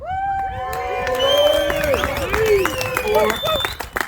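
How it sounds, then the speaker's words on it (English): A crowd at an anniversary roast claps and cheers, with loud whoops and shouting voices rising over the applause, close and lively throughout. "another round of applause for Lori Harris"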